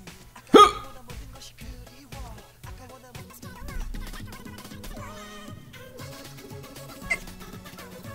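A singer's hiccup in a music video: one sharp, loud vocal catch near the start, then the song plays on under quieter sung and spoken parts.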